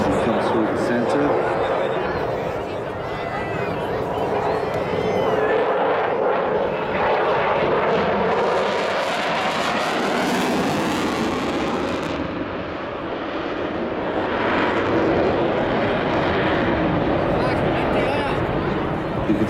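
A Eurofighter Typhoon fighter jet roars past at an air show, a loud sustained engine rumble swelling and easing over about twenty seconds, with a commentator talking throughout.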